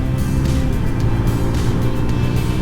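Steady, loud engine drone and wind rumble from a CFMOTO 300NK motorcycle accelerating on a city street, recorded close with no speech over it.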